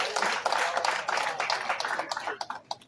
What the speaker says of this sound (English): Let's appreciate this gentleman with a clap.